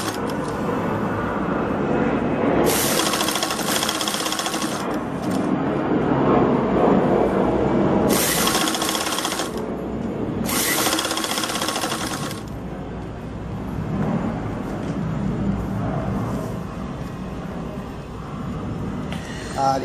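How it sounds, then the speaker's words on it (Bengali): Sewing machine stitching the hem of a plain blouse, running in several bursts of a few seconds each with pauses between, close and moderately loud over a steady background hum. "আমি এটাকে মেশিনে একবারে ফিনিশ করে দিচ্ছি।"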